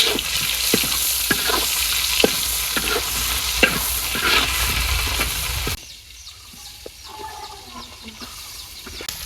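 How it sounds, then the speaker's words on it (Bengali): Prawns dusted with turmeric and salt fry in a pan, a loud close sizzle broken by scraping stirs, then the frying cuts off abruptly and faint outdoor bird and farm sounds remain. "আগে মাছগুলো ভাজে নেই।"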